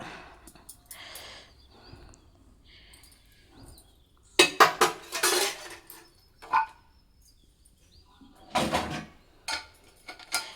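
A pressure cooker lid is closed amid scattered clinks and knocks of metal utensils in a home kitchen, with several louder bursts of clattering toward the middle and end.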